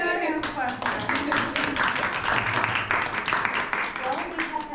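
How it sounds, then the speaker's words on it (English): An audience at a library performance applauds, dense steady hand clapping that rises quickly and continues for several seconds, with some cheering voices mixed in. "Let's give her another hand of applause."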